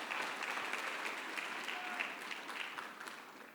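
Faint, distant applause from a church congregation, a steady wash of many hands clapping that continues throughout.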